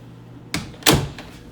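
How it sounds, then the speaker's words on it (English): An apartment door swings and shuts with two sharp knocks close by, the second louder and ringing briefly, followed by a fainter rattle in a quiet room. "Let's close the door."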